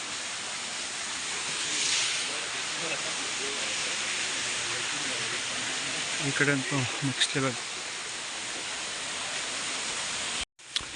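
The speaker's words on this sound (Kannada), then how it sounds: "ನೋಡ್ರಿ ಇಲ್ಲಿಂದ ಹೋಗ್ತಾ ಇದೆ ನೀರು" Water rushes over rocks at a historic site near Tirupati, making a steady broadband hiss that stays constant while someone talks over it.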